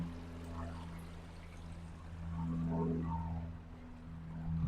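Garden water features flow and splash at the entrance of a garden centre, a soft continuous trickle and pour with a low steady hum beneath, swelling slightly midway and toward the end.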